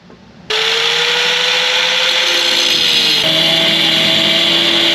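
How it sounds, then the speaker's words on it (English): A power tool cuts through a car clutch pedal during a 5-speed manual swap on a Nissan Silvia S14, starting abruptly and running as a loud steady whine with a rising tone, shifting pitch partway through. "Now we are going to cut this pedal and make it look just like a manual pedal."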